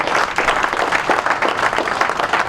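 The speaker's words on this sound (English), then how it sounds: "So, quick round of applause for all of those gentlemen and ladies." Round of applause from the audience at a PGA assistants' fall meeting, dense steady clapping from a modest crowd throughout, close and fairly loud.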